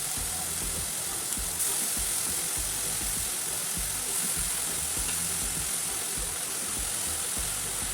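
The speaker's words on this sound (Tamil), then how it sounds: "இப்போ இதை நல்லா வதங்கட்டும்" Cut potatoes for a spicy potato stir-fry sauté in a pan with salt, making a loud, continuous sizzle mixed with the rough scraping of stirring throughout.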